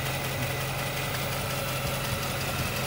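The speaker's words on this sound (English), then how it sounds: "Very nice, smooth running" A 1948 Buick Special engine idles smoothly and steadily, a low continuous hum with even vibration and no other sounds.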